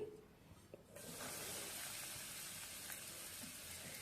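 Torn bread pieces dropped into hot ghee in a pan, a quiet start then a sudden steady sizzling hiss that continues evenly, close and moderately loud, with no talk.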